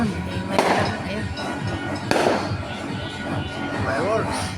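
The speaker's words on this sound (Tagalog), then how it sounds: "Fireworks dito sa amin." New Year fireworks exploding outside near a doorway, two sharp booms with crackling tails heard at a distance while people talk over them.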